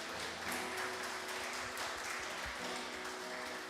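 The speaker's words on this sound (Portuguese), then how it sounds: "Uma salva de palmas de alegria e de louvor a Deus." Church congregation applauding in praise, a soft continuous wash of clapping heard from a distance, faint and even, with a low sustained organ-like tone underneath.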